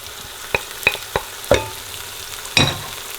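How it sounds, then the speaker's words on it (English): Ginger, garlic and dry masala frying in a pan, a steady soft sizzle broken by several sharp clicks and scrapes of stirring. "I'm going to fry the masalas till the masalas stop sticking."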